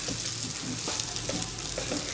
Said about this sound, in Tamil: முடிஞ்ச அளவுக்கு ஜவ்வரிசி உப்புமா கிண்டுறப்போ நான்ஸ்டிக் சட்டியில் கிண்டுங்க